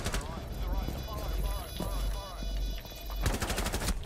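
Rapid automatic gunfire from a Rainbow Six Siege match, sharp repeated bursts at the start and a dense volley near the end, loud and close, with voices talking over the shooting.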